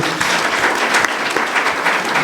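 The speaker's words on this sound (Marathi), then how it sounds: "आपण जोरदार टाळ्या वाजू" A church congregation applauds the reverend at a healing ministry gathering, dense steady clapping from many hands filling the room, loud and continuous without speech.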